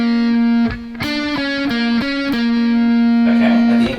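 A heavily distorted electric guitar plays a short solo phrase from a song, with a few picked and bent notes and one long sustained note at the end, loud and close, with no one speaking.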